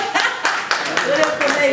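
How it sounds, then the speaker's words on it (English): Applause breaks out at a film screening event in Atlanta, a burst of clapping and crowd noise mixed with voices and talk. "It needs really an applause."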